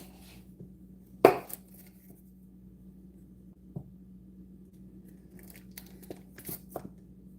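A knife chops through sandwich ingredients in a quiet kitchen: one sharp crunching cut, then scattered soft cuts and crinkles, close and faint with no talking.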